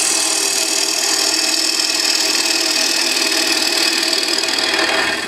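Turning tool hollowing a wooden bowl on a lathe, a steady loud hissing, scraping cut that runs continuously without pause, with no voices.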